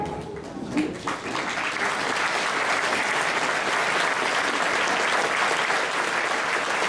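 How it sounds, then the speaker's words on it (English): An audience at a business membership annual meeting gives volunteers a sustained round of applause, dense clapping that swells after the first second and holds loud and steady throughout. "I'd like you to stand so we can give you a round of applause."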